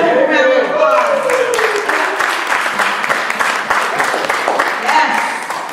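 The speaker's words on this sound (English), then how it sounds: "Let's give him a round of applause." A church congregation at a worship service breaks into applause, dense clapping that carries on steadily for several seconds, with a speaking voice over the start and cheers mixed in.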